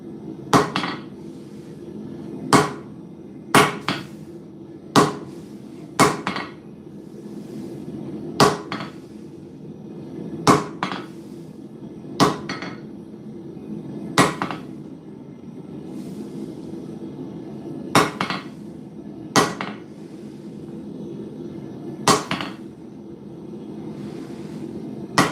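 A hammer strikes a cold 4140 octagonal steel bar in a workshop, about fourteen sharp ringing blows at a steady, unhurried pace over a low background hum, with no talk.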